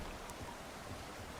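Steady, faint rain hisses evenly throughout in the survival game Subsistence, with no breaks and no voices.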